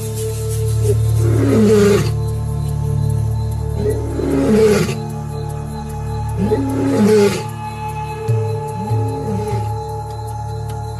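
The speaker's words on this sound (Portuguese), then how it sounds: "É possível ouvir este rugido a até 5 quilômetros de distância." Male lions of a large pride roaring at night, a series of deep, loud, rhythmic roars repeating about every two to three seconds over a steady low hum, with no voices.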